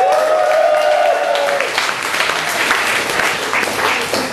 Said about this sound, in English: Keep our applause going for Liz Greenfield, everyone.